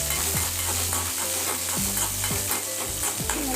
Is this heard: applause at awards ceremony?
no